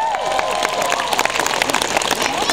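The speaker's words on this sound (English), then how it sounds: "Give those guys a clap." A street crowd in Covent Garden claps for volunteer helpers at a chainsaw juggling show: a brief, moderately loud patter of many hands clapping in a dense, continuous burst.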